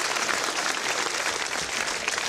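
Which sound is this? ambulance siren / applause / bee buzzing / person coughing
applause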